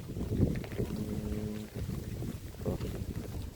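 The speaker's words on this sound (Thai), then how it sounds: "ลมพัด" Wind blows steadily outdoors on a cold evening in rural Thailand, a broad rushing roar with gusting swells that mixes with faint tonal hums and scattered low rumbles, loud and close to the microphone.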